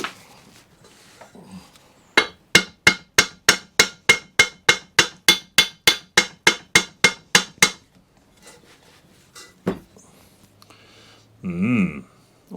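A hammer taps repeatedly at a bushing seized on a shaft during a Ransomes Ajax Mk4 restoration, a fast, even run of about twenty sharp metallic strikes, then scattered handling noises and a short rising squeak near the end.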